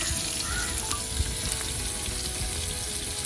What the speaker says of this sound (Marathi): कांदा भाजून घेऊ.